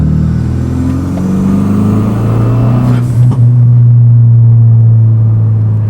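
Renault Megane RS hot hatch engine droning loudly and steadily while driving, pitch rising as it revs, with a brief thump midway and no talk.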